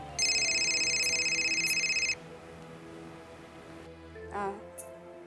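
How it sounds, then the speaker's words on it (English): A phone rings loudly with a steady electronic warbling tone for about two seconds, then stops, followed by quiet room hum and faint rustling. "Auntie KENDRA, handsome Ogadane is calling your phone"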